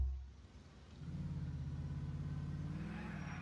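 A car driven in Grand Theft Auto IV, its engine rumbling low and steady after a quiet start, rising slightly in pitch as it accelerates, close and continuous with no talk.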